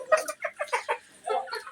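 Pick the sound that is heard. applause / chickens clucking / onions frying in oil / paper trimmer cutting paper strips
chickens clucking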